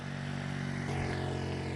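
A very old motorcycle passes, a steady low buzzing engine drone that swells a little midway, fairly faint and at a distance, with no talking.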